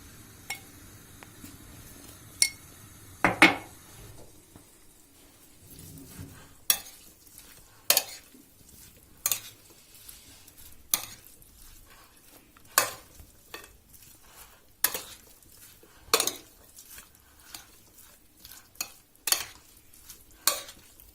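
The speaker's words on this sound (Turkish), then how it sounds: "Tuz. ve biraz da pul biber ilave edip karıştıracağız." Börek filling seasoned with salt and red pepper flakes being stirred in a pan: a low sizzle underneath with a dozen or so sharp spoon scrapes and knocks against the metal, irregularly spaced, close up and without speech.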